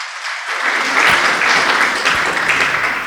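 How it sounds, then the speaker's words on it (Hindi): At a spiritual youth gathering in a hall, an audience breaks into vigorous applause after a brief silence, swelling quickly into loud, dense clapping that holds steady to the end. "आप लोग एक बार जोरदार तालियां बजाएं।"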